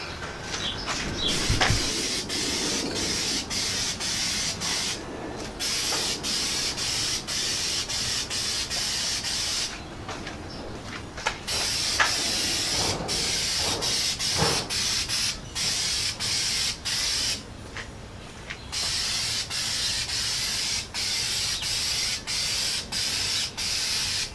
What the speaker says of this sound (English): then we'll hit them with that black spray paint